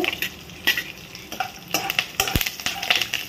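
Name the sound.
green chillies and curry leaves sizzling in hot oil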